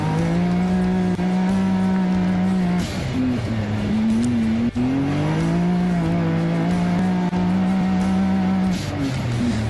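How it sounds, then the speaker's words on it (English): Lead trucks in a Baja desert race roar past with a loud, sustained engine drone. The pitch bends as they rev and pass, then settles into a steady high whine from several vehicles. "Sounds like the lead trucks"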